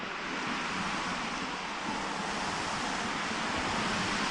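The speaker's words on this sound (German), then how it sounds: "Der Wind geht auch, aber es geht." Steady, loud wind blows outdoors on an autumn hike near Kaldenkirchen, Germany. It roars and rumbles against the microphone as a continuous broadband rush with no pauses and no speech.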